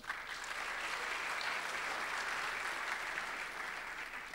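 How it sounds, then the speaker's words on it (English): Steady, dense applause from a conference audience greeting ten startup demo hopefuls at a digital summit, sustained and even for several seconds with no talk over it. "Can we please have a round of applause for them?"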